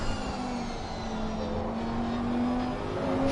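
Race cars including the number 44 Audi and the number 51 Ferrari running at the Nürburgring, a steady engine drone with a rising whine that holds loud and continuous throughout.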